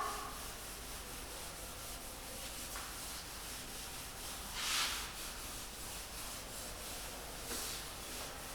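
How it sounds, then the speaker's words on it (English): An object is rubbed with a steady, faint, dry scratching, like light sanding, that goes on without pause and swells briefly twice. "I am rubbing this."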